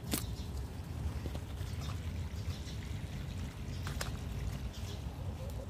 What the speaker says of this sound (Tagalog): Ilipat natin ang hose sa kabila. Yan, marami ng tubig.